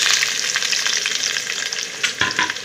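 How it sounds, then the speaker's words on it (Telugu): Onions frying in oil for a curry tempering, a dense, close crackling sizzle that runs without a break, with a few louder scrapes of stirring near the end and no voices. "ఉల్లిపాయలు బాగా ఫ్రై అవ్వాలి."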